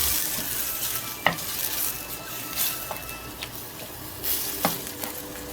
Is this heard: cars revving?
no